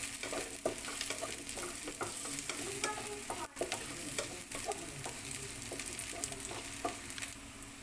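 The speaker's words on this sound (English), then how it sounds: "And then we can also put our ginger now. So we just have to saute." Ginger sautés in a pan for a Filipino salmon and shrimp sinigang, a steady close sizzle broken by repeated scrapes and clicks of stirring, with no voices.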